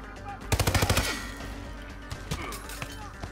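Gunfire in the Hitman stealth game: a fast, loud burst of about eight shots, then a few scattered, softer thuds and pops against low background noise.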